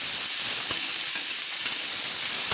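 Vegetables sizzle in hot oil in a pan for a vegetarian dal, a steady close hiss with a few faint pops and no talking.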